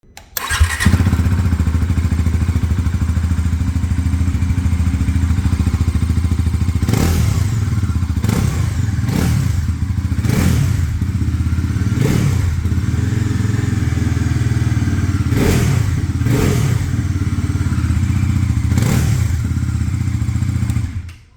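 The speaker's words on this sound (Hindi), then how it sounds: "अभी एक बार सुन लेते हैं NS 400 की एग्जॉस्ट नोट।" A Bajaj Pulsar NS 400 with a 400 cc engine rumbles at idle with its exhaust, then is revved in several sharp, loud blips spaced a few seconds apart before settling back to a steady idle.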